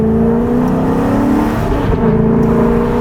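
Alfa Romeo 8C Competizione under hard acceleration, its engine holding a loud, steady roar close by with a deep tonal growl and no voices over it.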